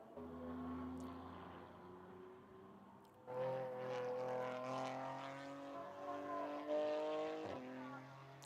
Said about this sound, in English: Very, very different engine note.